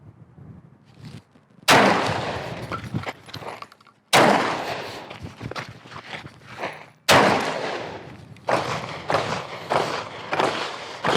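Pistol shots during a training drill with minimal gear, three sharp, loud bangs spaced a few seconds apart, each followed by ringing decay and shuffling movement, with a fainter fourth impact near the end.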